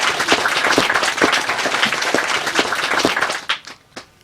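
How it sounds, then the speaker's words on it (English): An audience at a talk gives lively applause, dense close clapping that holds steady before thinning out to a few last scattered claps. "Now you can clap for yourself."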